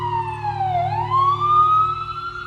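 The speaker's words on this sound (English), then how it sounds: "Sometimes people who live here are used to the sirens." An emergency vehicle siren wails loud and steady, its pitch dipping and then rising again as a fire department responds to a call, with a constant low drone beneath and no talk.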